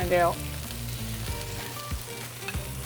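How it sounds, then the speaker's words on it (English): Eggs frying sunny side up on the back of a flat top griddle while burgers cook nearby, a steady close sizzle with a brief louder sputter at the start, no talk. "in the back half of our flat top, I'm gonna cook our eggs"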